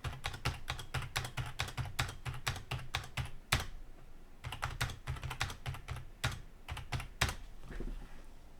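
Rapid key clatter from a computer keyboard as numbers are typed in for a CAD cost-estimating entry, steady bursts of close clicks with a brief pause midway, no voices.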